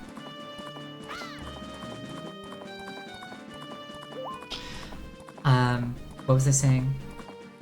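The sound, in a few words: horse Epona galloping and neighing in video game Majora's Mask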